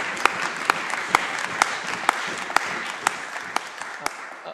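Members in the Scottish Parliament chamber applaud during First Minister's Questions with a sustained patter of clapping. Sharp bangs, likely desk thumps, punctuate it at a regular rhythm before it tapers off.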